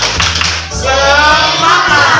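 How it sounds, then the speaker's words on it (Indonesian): Schoolchildren in an Indonesian primary classroom at SD Negeri 44 Kota Ternate do a rhythmic patterned group clap cheer, loud and close, with a steady beat of claps and some voices mixed in. "Tepuk semangat!"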